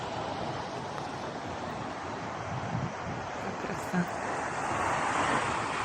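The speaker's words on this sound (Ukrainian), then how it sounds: "Дивіться на цей раньковий океан." Ocean waves wash onto a morning seashore on the Camino del Norte near Laredo, a steady broad surf roar swelling slightly toward the end, with some wind buffeting.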